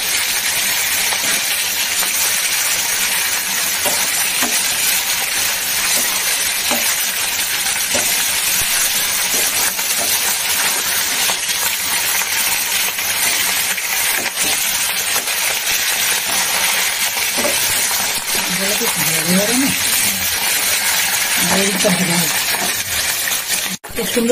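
Katla fish fries in hot oil with a loud, constant, bright sizzle that fills the whole stretch evenly, with a few faint crackles and pops toward the end.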